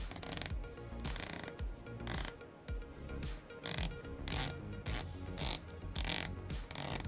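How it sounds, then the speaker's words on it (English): Sapphire bezel on a Swiss-made 316L stainless steel dive watch ratcheting as it rotates, giving crisp, close mechanical clicks in repeated bursts with short pauses, alone without talk. "The bezel action, and I'll insert some audio here,"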